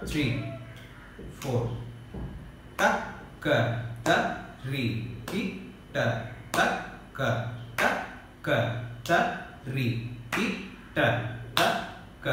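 Mridangam practice strokes from a lesson 9 exercise, crisp repeated hand strikes on the drum in a steady looping rhythm, played close and loud with a voice counting briefly.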